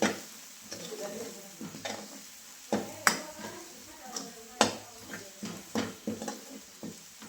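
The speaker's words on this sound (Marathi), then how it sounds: "फोडणी चांगली परतली त्याच्यामध्ये काळ तिखट टाकते" A spiced tempering sizzles in a pan while a utensil stirs it, steady frying hiss under irregular metallic scrapes and taps, close up; a voice is faintly present at moments.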